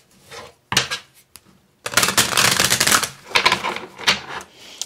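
Tarot cards are shuffled and drawn in quick papery riffles and flicks, with short pauses between bursts, close and fairly loud, and no talk.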